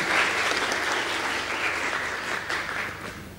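A burst of audience applause at a Smart Farm agriculture seminar, many hands clapping steadily and fairly close, tapering slightly toward the end.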